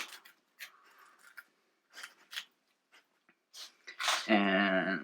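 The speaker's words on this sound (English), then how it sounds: "there's some little bones over here, but we'll just cut them through" A knife cutting through the small bones of a walleye while filleting, giving several short, close crunching snips separated by brief quiet gaps, then a burst of voiced sound at the end.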